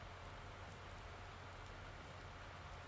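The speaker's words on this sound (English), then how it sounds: "I love that random raindrop that sounds like it's hitting a tin can or something" Rain falling in the Farming Simulator 19 video game, a steady, even hiss of rainfall with no pauses, at moderate distance.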